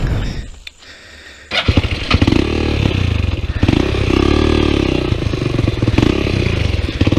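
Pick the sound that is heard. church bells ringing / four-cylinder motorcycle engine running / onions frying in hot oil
four-cylinder motorcycle engine running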